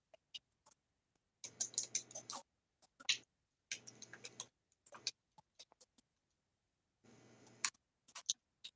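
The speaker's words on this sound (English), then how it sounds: "just typing" Typing on a keyboard, quiet bursts of rapid clicking separated by silent pauses, close and soft.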